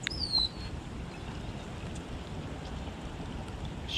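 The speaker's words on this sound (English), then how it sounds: "And it's raining hard." Heavy rain falling on a river during a fishing trip, a steady dense hiss of drops on water running throughout, with a brief faint bird-like chirp near the start and no talk.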